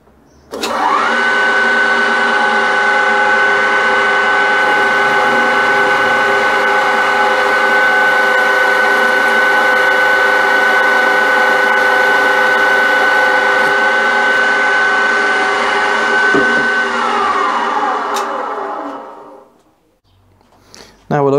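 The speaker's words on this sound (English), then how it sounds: "let's give this drill a test. This is a very small drill, so we'll run it on the higher speed" A small restored Meddings hand drill whirs at a high, steady pitch on its higher speed for about sixteen seconds, then spins down and stops.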